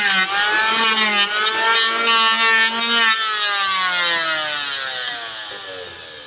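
A loud, steady electric wood planer whines with a high, rising-then-falling tone as it shapes a wooden part for a service boat, and the pitch sags as the cut finishes.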